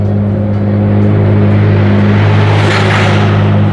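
Race cars at Fuji Speedway produce a loud, continuous engine drone nearby, with one car swelling as it passes and a steady low rumble underneath.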